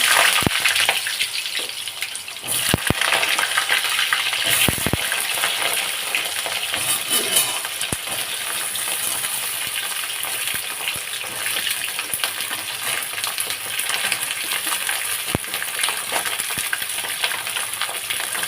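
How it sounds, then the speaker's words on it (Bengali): Pointed gourd pieces drop into hot oil and fry, starting with sharp splashes and clinks, then settling into a continuous loud hiss and sizzle with occasional pops, close up and without talking. "তেল গরম হয়ে গেছে, পটলগুলো দেবো।"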